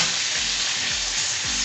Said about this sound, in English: Give it a proper stir. Mix it very well.